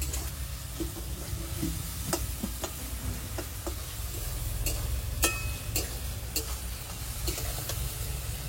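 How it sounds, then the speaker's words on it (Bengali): Onions fry in a pan for a duck curry, a soft continuous sizzle under low background hum, punctuated by sharp clicks and taps of a utensil stirring against the pan. "পেঁয়াজ প্রায় ভাজা হয়ে গেছে"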